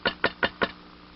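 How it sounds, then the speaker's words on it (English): Four quick knocks on a door, evenly spaced and fairly close, each a sharp rap that fades fast, followed by quiet. "But the knock came again."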